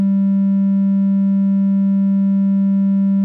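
Steady synthesizer tone from sine and triangle oscillators in Reaktor Blocks, a single unbroken low-pitched hum with a faint ladder of overtones, held evenly and clearly for about three seconds with nothing else heard.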